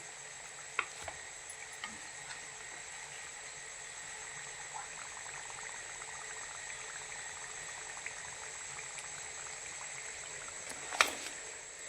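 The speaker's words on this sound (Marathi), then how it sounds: "आणि आता अशाच प्रकारे या बाकीच्या पण मी तळून घेते" Karanji pastries filled with fresh coconut deep-frying in hot oil, a steady, even bubbling sizzle close by that goes on without a break, with a few faint clicks and one brief sharp knock near the end, no talking.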